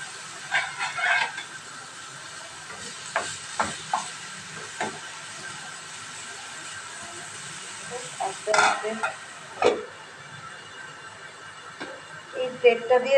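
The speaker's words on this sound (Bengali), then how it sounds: "ঢাকা দিয়ে দিয়ে ভাজাটা করে নিই এই প্লেটটা দিয়ে" Food frying in a pan covered with a plate gives a steady, soft sizzle close by, broken by sharp clinks and scrapes of a utensil against the pan.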